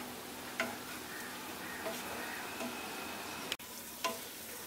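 Spice paste for a steamed egg kofta curry frying in a pan while a spoon stirs it, a soft low sizzle with a few light scraping taps of the utensil, quiet and close.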